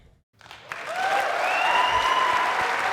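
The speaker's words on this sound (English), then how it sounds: "Clap it up." A crowd breaks into loud, sustained applause after a brief quiet moment, the clapping rising quickly and holding steady, with some whistle-like tones mixed in.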